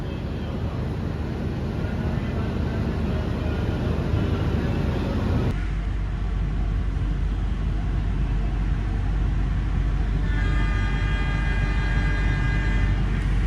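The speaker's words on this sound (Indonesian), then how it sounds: "ini kereta api Pasundan juga diberangkatkan teman-teman" The Pasundan passenger train rumbles steadily as it pulls away from the station, with a long horn tone sounding near the end.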